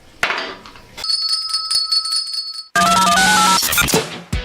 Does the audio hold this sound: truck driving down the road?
no